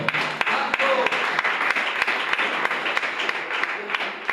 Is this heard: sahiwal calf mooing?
no